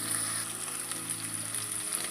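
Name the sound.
food being stirred and cooked in a pan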